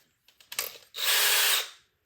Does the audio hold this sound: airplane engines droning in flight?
no